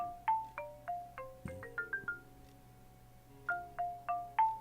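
Mobile phone ringtone in the Broken Sword 5 adventure game, a bright synthetic melody of short plucked notes that repeats in two phrases with a brief pause between, loud and alone with no talk.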